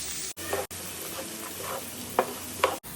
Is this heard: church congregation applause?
no